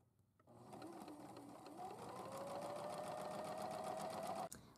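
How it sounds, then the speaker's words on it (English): A sewing machine stitches boning channels into 1760s stays, running steadily and close for several seconds with a rising whirr and rapid needle ticks, then stopping abruptly. "I have just finished sewing in all the boning channels and putting in all the boning for these stays."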